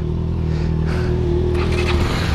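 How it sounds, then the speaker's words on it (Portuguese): A motorcycle, apparently an XJ6 or XRE, is manoeuvred nearby with a steady low engine drone and slight revving, plus some scraping and clatter; no one speaks. "o bicho manobrando a moto"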